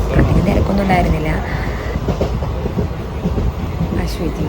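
A train stands at a railway station in Kerala on a trip around Kochi and Palakkad, its steady mechanical rumble and rattling noise running close and loud, with faint voices and station sounds underneath.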